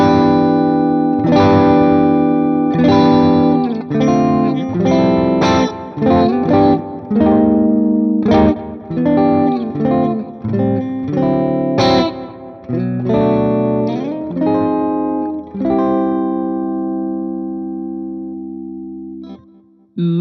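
Electric guitar played through an AmpliTube 5 Mesa Boogie amp simulation with EL6 tubes, a loud, distorted riff of chords and single notes with reverb that ends on a long ringing note fading out, and no one speaking.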